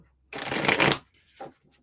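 Tarot cards are shuffled in one dense riffling burst lasting over half a second, then a shorter second riffle follows, close and fairly quiet with no talking.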